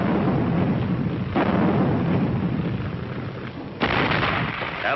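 A 105 mm howitzer battery fires in WWII footage, the sound a loud, continuous, rumbling roar of artillery blasts with two sharp new onsets, dense and muffled like an old film soundtrack.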